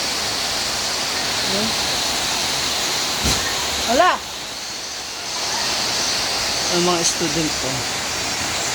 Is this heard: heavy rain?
yes